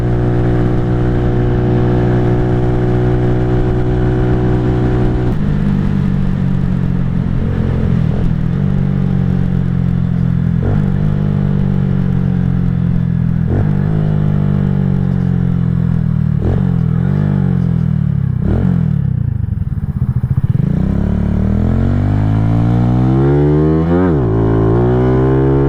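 A KP Mini 150 motorcycle fitted with an aftermarket muffler cruises steadily near 55 mph, its engine droning loud and close with several rising and falling pitch sweeps as the rider eases off and picks up speed.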